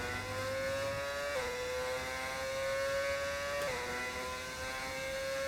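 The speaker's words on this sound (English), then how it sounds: "Really like the sound of the car in the background." An F1 racing car engine in a Formula 1 video game at the Brazil circuit holds a steady high-pitched whine that steps down twice at gear changes, loud and continuous with no talk over it.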